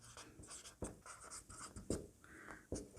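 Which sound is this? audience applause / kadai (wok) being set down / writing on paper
writing on paper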